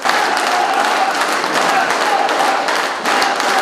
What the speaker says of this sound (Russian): громкими аплодисментами.